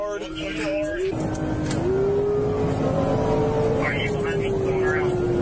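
A car drifting around corners in a police chase, its engine droning loudly and shifting in pitch under a continuous wailing siren, with a voice talking over it.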